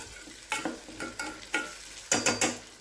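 A spoon stirs brinjal in hot oil in a pan, with about six distinct scraping strokes against the metal, some in quick pairs, over a low, faint sizzle, heard up close with no speech.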